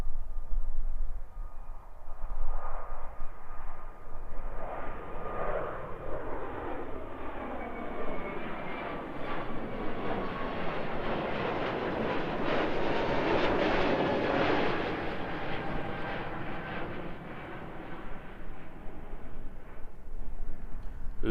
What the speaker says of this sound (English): Hoping for a full noise departure here from this A321 Neo.